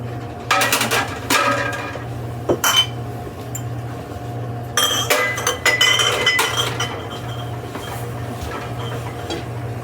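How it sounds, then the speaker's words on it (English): Clean glass canning jars set into a pressure canner rack with a steady run of clinks and knocks while home-canning black beans, over a constant low hum. "we're going to get the rest of our clean jars in so they can start heating up"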